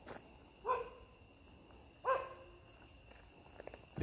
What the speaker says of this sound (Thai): เสียงหมาน่าจะลอยมาจากบริเวณชุมชนนะครับ